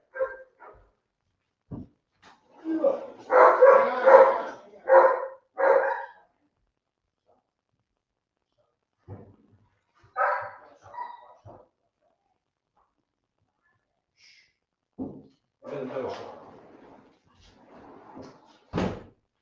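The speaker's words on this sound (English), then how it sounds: "when the dogs go nuts, something's up" Dogs barking indoors in short, excited bursts with gaps of quiet between them, fairly close, alongside what may be a door closing near the start.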